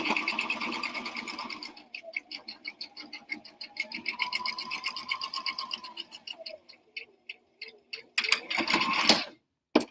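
A sewing machine runs in rapid rhythmic bursts, stopping and starting, with its steady mechanical whir and clatter close by.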